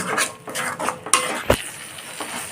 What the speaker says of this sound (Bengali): গ্যাসটাকে লো ফ্লেমে রেখেই মশলাটাকে কষতে থাকি